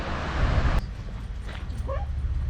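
On a beach, a dog gives a few short yips and whimpering barks, faint and somewhat distant, over strong wind noise and surf rumble.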